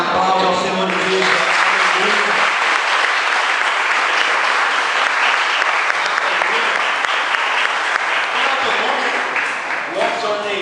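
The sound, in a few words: church congregation applause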